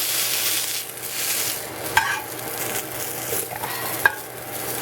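A piece of spicy sausage frying in hot fat, heard as a steady close sizzle with light scraping and a couple of sharp clicks from a utensil against the pan, no voices.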